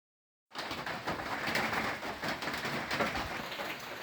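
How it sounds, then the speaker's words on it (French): A rain shower on a New Zealand trail, heard from under a small shelter, starts abruptly after a moment of silence. It settles into a steady, dense hiss that stays fairly even to the end. "Il pleut."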